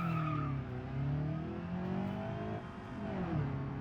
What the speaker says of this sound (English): We're going to launch it right off the rev limiter.